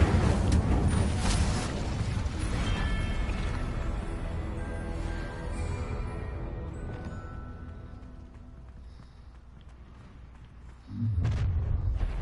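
Explosive Confringo spell blasts in Hogwarts Legacy: a loud, dense burst of booming impacts opens, rumbling and fading over several seconds, then another heavy blast hits near the end.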